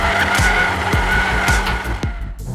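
A stock 2022 Volkswagen Golf R holds a long four-wheel drift on a race circuit, its tyres squealing loudly and continuously over the strained engine roar, with repeated rhythmic pulses through the slide.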